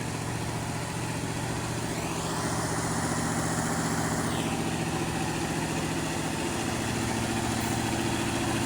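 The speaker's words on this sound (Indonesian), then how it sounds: "Satu ini truk trailer merah." A red trailer truck's heavy diesel engine idles with a steady, loud, throbbing drone and constant mechanical hum, broad noise swelling slightly as another vehicle passes nearby.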